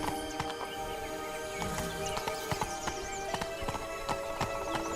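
Roach, the horse in The Witcher 3 video game, trots with distinct, evenly spaced hoof clops over a tonal musical background, close and clear, with no voices.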